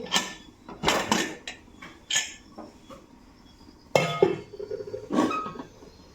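A pressure cooker of drumstick leaf soup is opened after the pressure is released, giving close metallic clinks, scrapes and clanks of the lid and pot in irregular bursts with short pauses between them.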